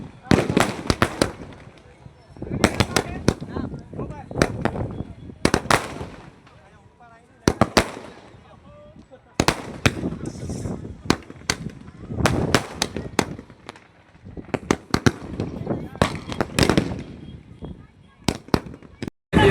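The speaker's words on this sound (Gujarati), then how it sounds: "દિવાળી ઉજવી લીધી. ફટાકડા ફોડી થાકી ગયા." Firecrackers burst at a Dev Diwali celebration, sharp loud cracks and pops coming in irregular clusters with short gaps between them. Voices talk and shout among the explosions.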